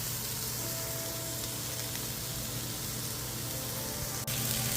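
Diced red peppers, jalapeños and onions seasoned with salt, pepper and garlic fry in a pan, a soft, even sizzling hiss over a low background hum, with a single click near the end.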